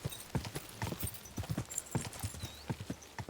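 Galloping horse hooves in Kingdom Come Deliverance 2, brisk regular clip-clop beats close by, with a brief whinny-like tone partway through and no speech.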